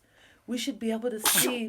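A single sharp sneeze cuts in near the end while a woman reads a story aloud. The sneeze is close and clear, mixed into her speech.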